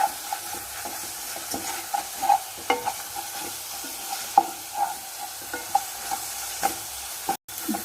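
Onions for an egg roast sauté in a pan, a soft steady sizzle broken by repeated scraping and stirring clicks from a spoon, close and moderately quiet, with a brief dropout near the end.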